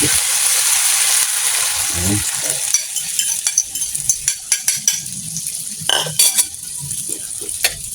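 Beaten egg fries in a pan with a steady bright sizzle, while a utensil scrapes and taps against the pan in repeated short strokes, close and loud, with a voice speaking briefly over it.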